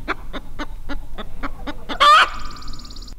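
Chickens give a run of evenly spaced, sharp clucks, close and fairly loud, then one bird lets out a louder, drawn-out squawk before the clucking resumes more quietly.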